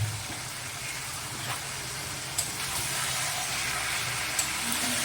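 Raw onion goes into a pan for a taro and shrimp curry and fries with a steady, close hiss. A few light clinks of stirring rise above the even sizzle.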